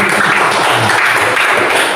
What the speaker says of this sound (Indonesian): Beri tepuk tangan dulu untuk temannya Rizky